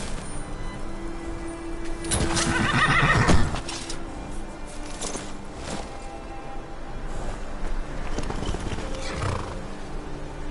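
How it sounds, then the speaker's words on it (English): A horse in the Skyrim video game, out in the Reach, gives a loud close whinny over steady clip-clopping hooves that continue throughout. "You need a reliable horse in the Reach."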